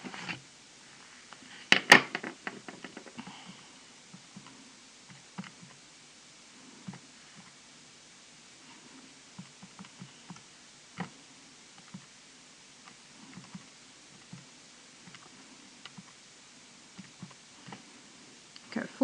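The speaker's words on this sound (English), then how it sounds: "Type that into my calculator." Buttons pressed on a calculator while working an exam maths problem, heard as soft, irregular taps spaced out over a quiet room hiss, with a louder rustle near the start and no talking.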